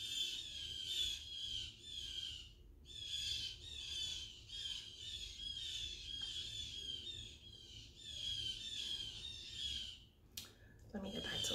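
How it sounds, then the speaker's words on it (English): Birds squawk loudly and continuously in repeated harsh bursts, close and dense, with a short break partway through and a sharp noise near the end. "Wow, these birds are going crazy."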